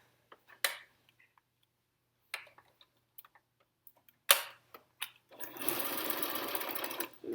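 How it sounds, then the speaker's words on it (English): A sewing machine stitches a pee pad: a few faint clicks and taps give way to a loud, steady, close-up run of stitching that continues to the end. "So let's go ahead and sew this."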